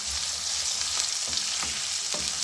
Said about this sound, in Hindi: गाजरों को भी हम थोड़ा सा फ्राई कर लेंगे